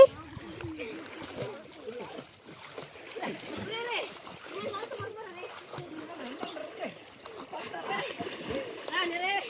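Water splashes and sloshes as people swim and jump in a village well, with intermittent splashes under nearly constant talking and calling voices.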